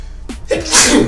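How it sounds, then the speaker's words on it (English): A single person sneezes close by, a sharp loud burst preceded by a short inhaled catch, heard alone without talk during a casual sports podcast conversation. "Sometimes you gotta sneeze."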